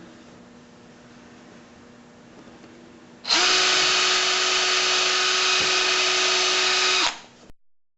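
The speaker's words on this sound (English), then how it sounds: "So for now I'm just going to pre-drill all the holes." A power drill pre-drills screw holes in a wooden chessboard: after a quiet hum, the motor starts abruptly and whines at a steady high pitch for about four seconds, then winds down and stops.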